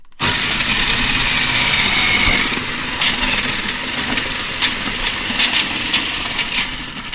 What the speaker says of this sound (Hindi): ताकु ग्राइंडर रे बाटी नबा।